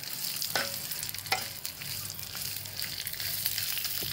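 Vermicelli is stirred and roasted in a pan, giving a soft continuous sizzle broken by a few sharp scraping strokes of the spoon.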